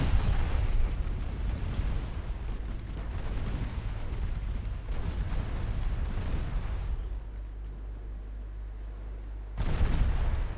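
Heavy naval guns boom in a naval warfare video game, a dense roll of deep blasts and rumbling concussions that eases into a lower drone before another loud salvo bursts at the end.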